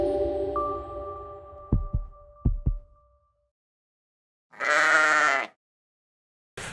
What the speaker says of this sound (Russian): Здесь у нас овечки. Мы держим овец.